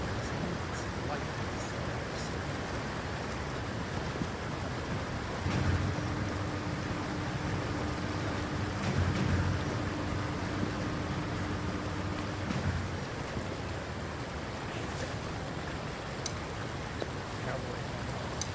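Rain in The Infected game falls as a steady broadband hiss, even and moderately loud throughout, with a faint low hum joining partway through.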